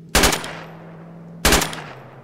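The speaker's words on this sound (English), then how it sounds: "that's an AK." Two loud, sharp bursts of AK rifle fire in the ARMA military video game, each a short rapid volley followed by a decaying echo, separated by about a second of quiet hum.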